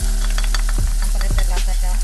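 Oyster sauce hits a hot frying pan during lumpiang Shanghai prep, giving a loud, steady sizzle with a couple of stirring scrapes and clatters, no voices.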